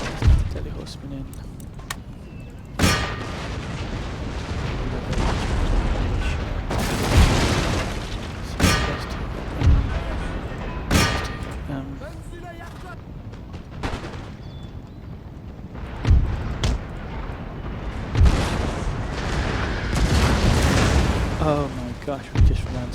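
Cannon artillery in the strategy game Empire: Total War, an Ottoman campaign battle, with repeated loud booms and volleys of gunfire over a continuous battle din while someone talks throughout.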